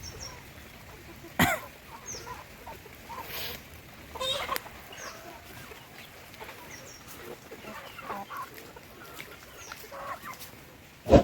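Rain-soaked chickens on a farm cluck and call sporadically close by, with a few sharp louder bursts scattered among quieter murmuring clucks.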